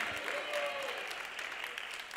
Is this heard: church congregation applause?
yes